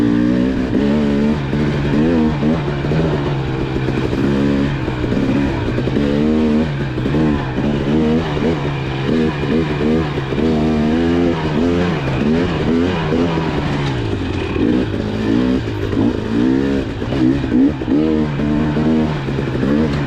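A Beta motorcycle engine revs hard at a demo day, its loud, rising and falling tone surging continuously with rapid throttle changes, up close and without any talk.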